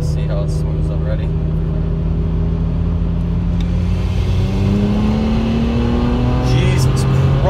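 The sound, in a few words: turbocharged car accelerating hard in fourth gear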